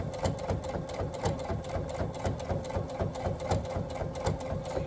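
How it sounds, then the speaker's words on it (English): A sewing machine runs slowly and steadily, stitching around the edge of a fabric burp cloth, giving a fast, even mechanical chatter of needle strokes that continues throughout. "I just take it slow, slow and steady, and that way you've got a nice clean stitch going all the way around"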